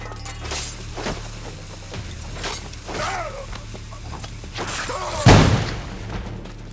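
A grenade blows up in Assassin's Creed 4 Black Flag with one sharp, shattering blast late in the clip, standing out over background game noise and brief voices.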